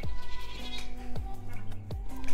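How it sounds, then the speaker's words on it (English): Hungry goats on a small farm bleat loudly and repeatedly, several overlapping calls rising and falling close by across the whole moment. "The goats always yell at us when they're hungry."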